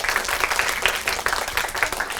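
Children clapping together in a school classroom to vote for a contestant, a quick busy patter of many small hands, close and fairly loud, continuing unbroken for a couple of seconds.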